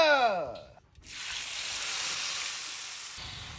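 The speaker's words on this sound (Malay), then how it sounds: "Hembankan lada." Chopped chilies hit a hot pan for a spicy prawn asam pedas curry, setting off a sudden loud, steady hiss of sizzling that holds for a few seconds after a brief voice at the start.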